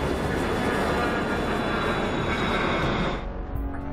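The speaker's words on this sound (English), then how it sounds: "The plane below has now taken off." An airplane takes off from a runway with a steady, loud, broadband engine roar that holds evenly and begins to fade toward the end.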